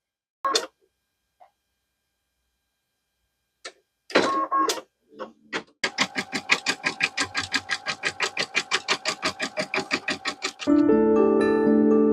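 An embroidery machine stitches a freestanding lace headband, starting with a few clicks and whirs before settling into a fast, steady mechanical rhythm of close, repeated stitching, then shifting to a denser continuous hum near the end.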